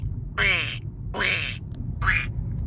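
A duck gives three short, distinct quacks, evenly spaced, over the low rumble of a moving car.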